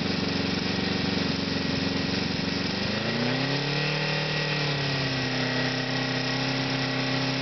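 A Honda CB550 motorcycle engine runs steadily at about 3,000 RPM during a charging test, giving a continuous close hum whose pitch shifts slightly upward partway through and then holds even.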